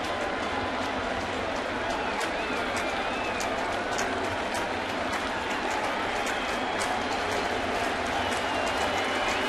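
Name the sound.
baseball stadium crowd cheering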